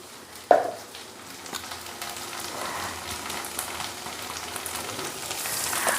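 Jakhya seeds and asafoetida hit hot mustard oil in a kadhai with a sharp drop-in tick, then a steady, close sizzle that builds slightly over several seconds, with no talking.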